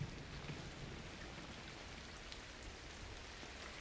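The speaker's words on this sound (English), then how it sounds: "the rain sound is loud" Steady rain in the video game Cairn, a dense, even hiss of falling rain that continues unbroken, with no voices over it.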